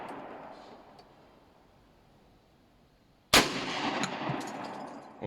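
A Panzer BP12 2nd Gen shotgun fires a single loud, abrupt blast after several seconds of quiet, followed by a ringing, echoing tail outdoors.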